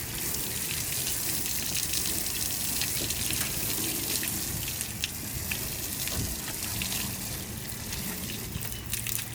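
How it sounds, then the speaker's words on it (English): Water rinsing dirt off a boat during detailing, a steady, close, continuous hiss and splash of spray on the hull that holds at an even level throughout. "So here you can see all the dirt particles basically rinsed off the boat."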